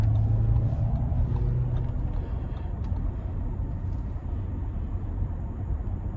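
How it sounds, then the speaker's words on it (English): An Audi Q7 seven-passenger SUV with a four-cylinder engine and eight-speed transmission cruises, giving a steady low engine hum and road rumble from inside the cabin. "the 4-cylinder isn't intrusive, it's not grainy, it's not unrefined, so it's kind of just in the background paired up with this 8-speed"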